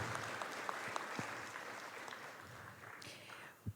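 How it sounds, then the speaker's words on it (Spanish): An audience at a human rights book presentation in El Salvador claps softly, with scattered distinct hand claps over a faint, thinning background, heard from a distance. "Démosle un aplauso, por favor"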